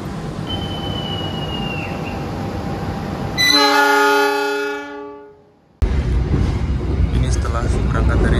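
An Argo Cheribon economy train pulls out of Haurgelis station: a loud, long horn blast sounds over rolling rail noise, fades out, then the clattering wheels and carriage rumble return.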